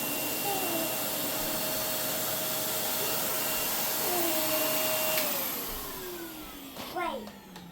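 A household vacuum cleaner drones steadily at close range with a strong whine that shifts pitch as it is moved, then winds down near the end, with faint voices behind it.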